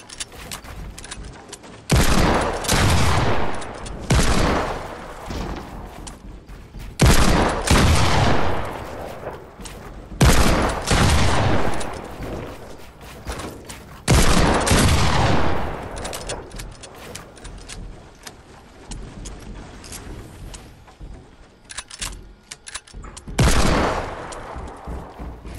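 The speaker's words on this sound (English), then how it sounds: "Okay, I'm trying to shoot you." Video game gunfire during a 1v1 build battle, heard as loud, close bursts of rapid shots in several separate volleys, with brief quieter gaps between them.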